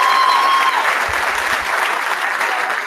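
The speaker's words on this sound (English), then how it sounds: "Have a round of applause for the graduates from Southampton High School" An audience at a 2019 enlistment ceremony applauds high school graduates with a steady wash of clapping, with a brief tone at the start and low thumps midway.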